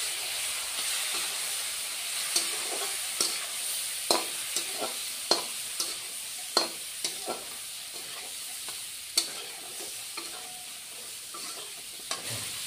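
Mustard fish curry (bata fish in mustard paste) being stir-fried in a pan after a little water is added, a steady sizzling hiss with scattered scraping clicks of the spatula stirring, close and fairly quiet throughout.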